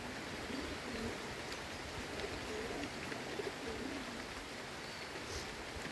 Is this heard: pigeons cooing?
yes